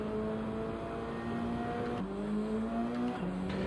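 A race car in Gran Turismo 7 hums along with a steady engine note that rises through the gears, dropping sharply at each of two quick upshifts, alone without talk.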